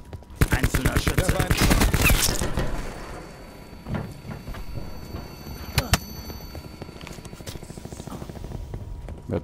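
Gunfire in the video game Call of Duty: Black Ops 4: a loud rapid automatic burst up front, then scattered single shots and impacts that fade to sparser, quieter reports.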